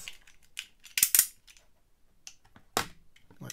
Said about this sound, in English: it's just got some plastic tags around there, which I'm going to need to cut off